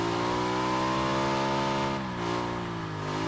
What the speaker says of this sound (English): There's another vehicle nearby.